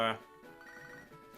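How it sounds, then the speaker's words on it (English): Short electronic phone ring from the Pokémon HeartGold game, a bright chiming trill at the start followed by quieter melodic game music. "Just because he's Youngster Joey, let's pick up and see what he has to say."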